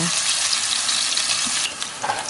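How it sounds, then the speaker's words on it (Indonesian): Shallots and garlic hit hot oil in a wok and fry with a loud, steady, close sizzle and bubbling hiss that crackles throughout. "Kalau sudah panas kita akan masukkan terlebih dahulu bawang merah dan juga bawang putihnya."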